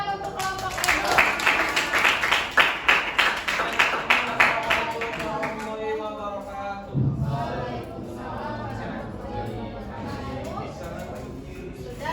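A classroom group claps in rhythmic, evenly spaced beats for several seconds, then voices take over as the clapping stops.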